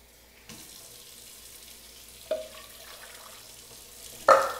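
Water runs from a kitchen tap into a pot for cooking oats on the stove, a steady splashing stream with a couple of louder clunks and a sharper burst of flow near the end.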